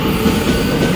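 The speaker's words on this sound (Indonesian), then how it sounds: "Kereta lagi, keretaku belum datang." A train passing through a station in Taiwan, a loud, close, steady rumble of wheels and carriages with a continuous rolling roar throughout.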